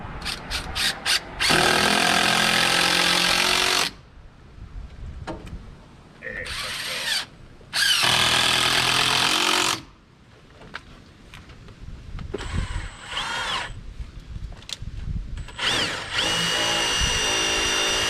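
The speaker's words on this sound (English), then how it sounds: "Get us a couple of screws started here." Power drill driving screws into a wood board during custom framing work, with loud bursts of whirring drive separated by brief pauses and quieter handling, close and prominent throughout.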